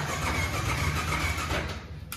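Motorcycle self-starter cranking on an RC 200 or R15 V3 that will not start, a steady close mechanical churn with low engine-like pulsing that runs for about two seconds without catching.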